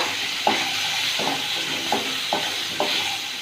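Chickpeas frying in oil with panch phoron, a continuous close sizzle broken by five evenly spaced spoon scrapes or stirs.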